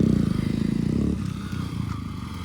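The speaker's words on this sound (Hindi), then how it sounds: "ये देखो, ये शोएब का बुलेट निकल आया गाइस" A Royal Enfield Meteor 350cc motorcycle engine chugs with a steady low thump close by, dropping slightly in pitch as the rider eases off partway through.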